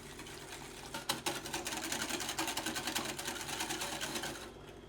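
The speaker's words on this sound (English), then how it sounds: "Now I'll whisk the 4 egg yolks with the 1/4 cup of sugar remaining." Four egg yolks and sugar are whisked briskly in a bowl, a rapid, even clicking and swishing that repeats in quick strokes up close for several seconds.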